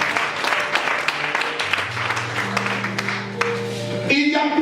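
A church congregation applauds in a steady mass of hand claps, with sustained musical tones underneath and a brief voice near the end.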